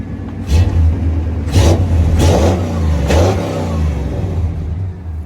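A car with a newly swapped engine starts and runs, its close, loud engine note swelling through several rev surges before settling toward a steady idle.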